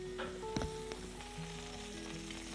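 Chopped onion sizzling faintly in desi ghee while keema is prepared, a soft, steady frying hiss with a few light clinks near the start.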